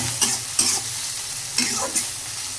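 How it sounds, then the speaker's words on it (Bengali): Taro leaves with dried loitta fish being stirred and fried in mustard oil in a home kitchen, giving a steady sizzle broken by several sharp scraping stirs spaced across the moment. "তো এখন ভালো করে ভাজে নিব।"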